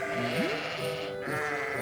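Children imitate sheep bleating, a short wavering 'baa' rising in pitch, heard close over a steady background hum.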